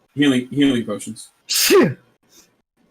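A single sharp sneeze at a tabletop role-playing game session, loud and close, following brief speech by a player and then trailing into near silence.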